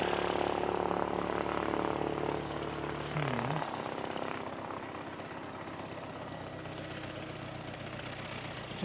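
A replayed recording of a Qantas airliner, heard on a day of strong winds, gives a broad engine roar that fades partway through into a lower, steady rumble.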